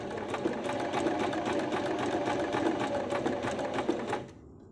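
Sewing machine stitching fabric in a steady, fast run of rapid needle strokes, close and loud, stopping abruptly near the end with no talking.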